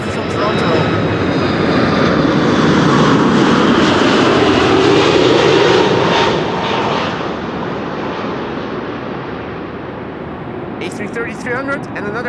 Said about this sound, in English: KLM flight 696, arriving from Toronto.